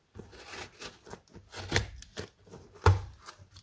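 Several short cutting and slicing strokes as a Koenig Arius knife opens a package, with sharp rasping cuts and scrapes close by, two stronger snips standing out against quiet pauses.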